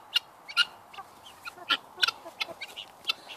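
Chickens clucking close by: short, sharp calls scattered irregularly, several in quick succession, with no talking.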